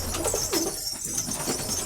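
A pigeon with unevenly clipped wings coos softly at close range against a steady bright background hiss, with a faint flutter of movement and no talking.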